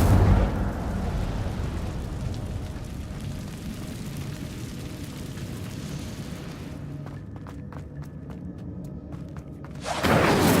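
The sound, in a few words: Incendio fire spell in Hogwarts Legacy video game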